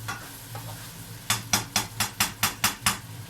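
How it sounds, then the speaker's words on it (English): Bacon grilling in a pan for pasta with peas, with a steady low sizzle under a run of about eight sharp, evenly spaced scraping or tapping strokes of a utensil against the pan, close and fairly quiet, no talk. "Look at the bacon, it's grilling nicely."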